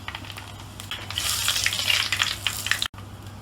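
Mustard seeds, cumin and dried red chillies frying in hot oil, a steady crackling sizzle that swells in the middle and cuts off briefly near the end, with no voices.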